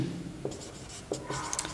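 Short scratchy strokes and taps of writing on a board during a maths lesson, a few soft separate marks close by under a quiet room.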